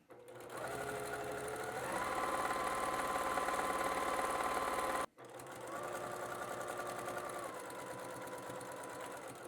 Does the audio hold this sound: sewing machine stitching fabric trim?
yes